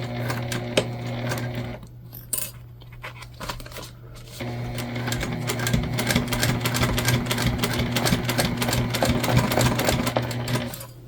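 A sewing machine stitches a bucket bag through heavy interfacing, its steady close-up whirring pausing briefly near the start before running continuously and loudly again.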